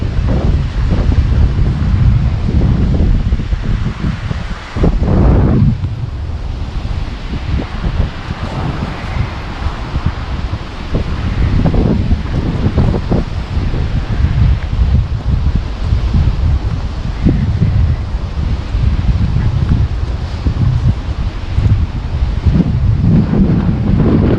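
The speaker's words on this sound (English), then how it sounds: "I mean, it's chilly today and windy." Strong wind buffets the microphone in heavy, rumbling gusts that continue without pause, with a faint rustle beneath, on a chilly peninsula at Camp Hoffman.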